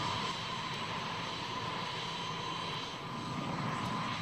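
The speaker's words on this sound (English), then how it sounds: "I've just been given clearance to take off, so now I'm running up the engines" Twin engines of an A-10 attack jet running up on the runway before takeoff at an airshow, a steady loud roar with a high whine holding level throughout.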